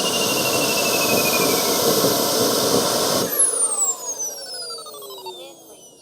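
A Kingtech K45G4+ turbine jet engine, mounted in a model MiG-17, roars loudly and then shuts down, leaving a falling whine that fades over several seconds.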